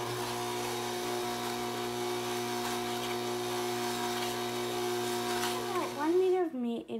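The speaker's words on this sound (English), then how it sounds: "make sure to give this a good whisk at medium speed for about 3 minutes" An electric mixer whisks at medium speed with a steady, close motor drone, its tone wavering and dipping near the end as it slows.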